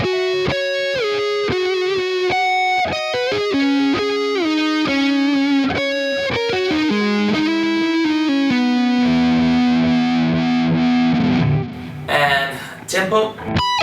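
A distorted electric guitar plays a fast Lydian lick, a close, loud run of singing sustained notes with bends and slides that ends in a noisy, squealing flourish, with no talking over it.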